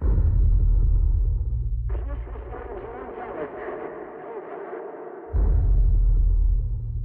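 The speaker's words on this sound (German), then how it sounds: "Wir haben Rückkopplungen." Harsh radio feedback in a film trailer cuts in as a loud crackling, warbling burst of static between stretches of deep rumbling tone.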